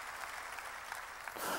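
A church congregation applauding during a sermon, a faint, steady patter of many hands heard from a distance, with no voices over it.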